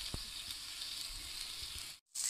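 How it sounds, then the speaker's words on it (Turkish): Beef tongue fries in oil in a preheated cast iron pan, a close, steady hiss of sizzling that cuts out abruptly near the end before resuming. "Ben şimdi önceden ısıtılmış döküm tavada dillerimizi güzel şekilde kızartacağız."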